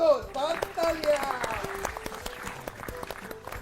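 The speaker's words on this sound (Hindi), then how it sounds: "हो जाए एक बार फिर से जोरदार तालियां" A studio audience on an educational quiz show claps loudly, with a burst of applause mixed with a speaking voice and then fading into scattered claps.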